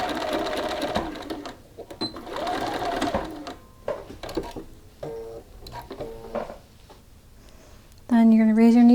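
A sewing machine stitches a short back tack on a shirt cuff in quick, brief bursts with pauses between them. A voice talks over it, and a louder continuous tone comes in at the end.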